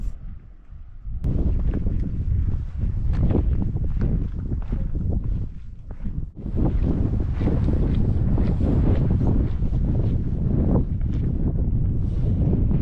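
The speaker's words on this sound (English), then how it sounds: "It's way too windy. It's like, will not stop." Strong wind near Moab, Utah buffets the microphone continuously in heavy, rumbling gusts, with a brief lull before roaring back up.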